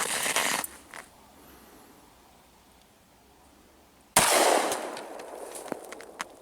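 A Glock 21 firing a 200-grain Sig V-Crown .45 Auto round into a watermelon outdoors: one loud, sharp gunshot with a lingering rumble, followed after a few seconds of quiet by a second loud blast that trails off into crackling.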